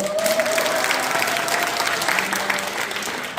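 A roomful of Korean university students at a Gyeongju retreat applauding a guest MC as he takes the stage, the clapping thick and continuous, with murmurs and a faint voice mixed into the crowd noise.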